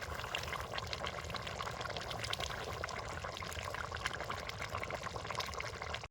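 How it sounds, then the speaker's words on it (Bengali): Spice-rinse water poured steadily into chicken biryani meat cooking in a pot, a continuous splashing, gurgling stream that holds at an even level for about six seconds and then stops abruptly, with no voices. "এবার আমরা মশলা ধোয়া জলটা অল্প করে দিয়ে দেব।"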